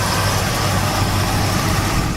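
Steady low rumble of a 1979 Pontiac Trans Am's 6.6 liter V8 idling, heard close and loud, with an even, continuous drone and no voices.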